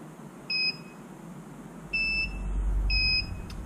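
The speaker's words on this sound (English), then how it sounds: "you'll hear three beeps, one from the mower, one from the charge station, and another from the mower to confirm the signal connection" A Lawnba E1800/E1600 robot lawn mower and its charge station pair with three short electronic beeps, one from the mower, one from the station and one more from the mower, spaced about a second apart over a low background hum.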